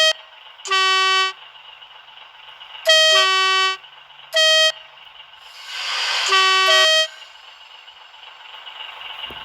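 A class 108 train in a video game departs from a station platform, sounding repeated loud tonal horn blasts, several short toots and one longer, over a steady hum of the moving train.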